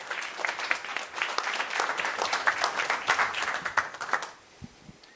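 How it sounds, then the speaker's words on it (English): Audience applause fills a room at a Quantum Bitcoin Summit talk, a steady dense patter of many hands clapping that tapers off near the end into a few scattered claps. "Let's give a round of applause."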